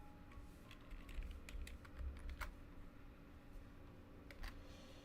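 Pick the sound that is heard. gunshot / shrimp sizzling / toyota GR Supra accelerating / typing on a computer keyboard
typing on a computer keyboard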